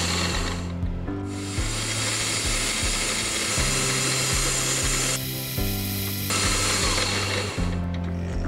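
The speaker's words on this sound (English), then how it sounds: "a quick trip to the mill to drill and tap a hole for the set screw" A milling machine drills and taps a set-screw hole in a machined replacement pulley with a keyway, a steady loud motor whine with shifting pitch and brief changes in load, close and alone.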